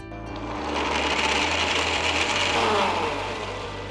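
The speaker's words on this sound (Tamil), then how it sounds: "பால், பிஸ்தா, குங்குமப்பூ எல்லாத்தையும் ஒரு மிக்சர் ஜாருக்கு மாற்றி ஸ்மூத்தான பேஸ்ட்டாக அரைச்சி" Mixer grinder jar whirring steadily as it blends pistachios, milk and saffron into a smooth paste, a continuous close motor drone lasting the whole stretch with no talk.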